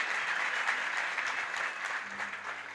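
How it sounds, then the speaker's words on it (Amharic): An audience claps together in a hall for a leader's introduction, dense sustained applause at even strength for the whole stretch. "ለታላቁ ሊደራችን ለሚስተር ግርማቸው ባካቸው አንድ ጊዜ አጨብጭቡለት"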